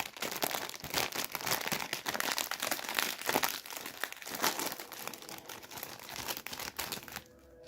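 A plastic snack bag of tomato-flavoured Ash Ash snacks crinkles and tears open in steady, dense rustling close to the mic, with no voice heard.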